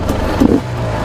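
Two-stroke enduro motorcycle engine revving up close, a steady mid-pitched drone with a brief louder surge partway through before settling back to a constant hum.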